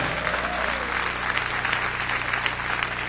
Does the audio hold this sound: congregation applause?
yes